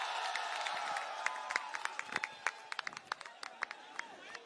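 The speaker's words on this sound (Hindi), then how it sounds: "जोरदार तालियां हो जाए सर के लिए" Crowd at a political protest rally claps and cheers for the party's national convener, scattered sharp claps growing denser over a murmuring crowd, with a voice heard in the mix.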